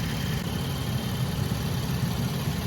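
Cadillac XTS with the 3.6 engine idling while warming up to operating temperature, a steady low rumble that holds evenly throughout, close by and with no voices.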